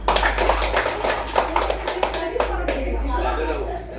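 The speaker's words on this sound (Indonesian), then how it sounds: "Oke, tepuk tangan dulu." A group of children and adults clapping hands together during an early-childhood parenting class session, a fast run of sharp rhythmic claps over a low steady hum, fading into looser clapping and murmured voices.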